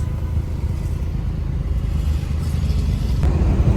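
Motorcycles and other traffic pass along a city road, a continuous close rumble of engines that builds slightly toward the end, with no voices.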